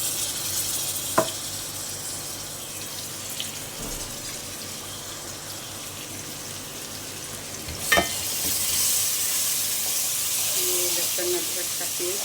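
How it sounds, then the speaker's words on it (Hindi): Garlic ginger paste sizzling in a pan of lightly browned fried onions, a steady soft hiss with a couple of sharp clinks from a spoon, fairly faint and close. "तो इसमें हम अब डालेंगे 2 चम्मच लहसुन अदरक का पेस्ट"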